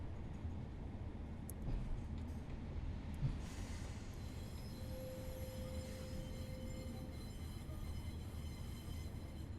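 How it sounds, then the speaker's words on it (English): A Class 142 Pacer train in Train Simulator Classic rolling along with a continuous rumble of wheels, a thin flange squeal rising above it partway through, faint overall and with no speech. "There is the Pacer squeal that we all know and love."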